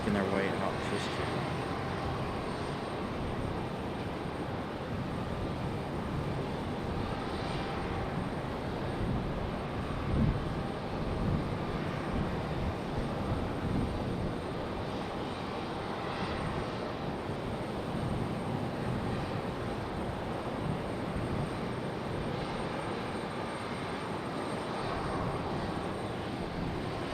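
Jet aircraft noise rumbles steadily and at a distance around Raleigh Durham International Airport, a broad continuous roar with wind buffeting, while a person talks over it.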